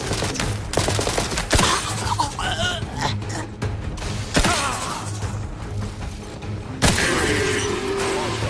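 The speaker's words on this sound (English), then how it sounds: "What is firing at me?" Loud bursts of rapid gunfire and impacts in the video game The Outer Worlds 2, sharp volleys repeating over dense music and effects, with occasional thuds.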